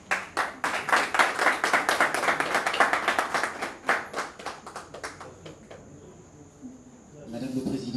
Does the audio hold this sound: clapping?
yes